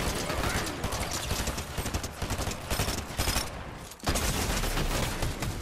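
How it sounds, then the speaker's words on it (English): Rapid gunfire in Fortnite Chapter 5, dense bursts of shots crackling almost nonstop at close range, with a short lull before firing resumes. "I'm getting shot by Zeus."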